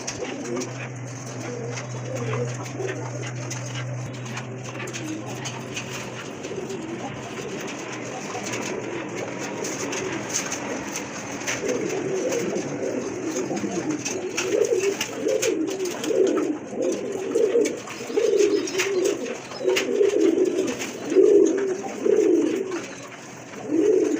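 Red-beaked pigeons coo in a loft, their low rolling calls repeating steadily and growing denser and louder toward the end, with a brief low hum near the start.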